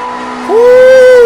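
A Nissan S13's engine in the mobile game CarX Drift Racing revs up sharply about halfway through, its pitch rising and then holding a steady, loud high whine to the end.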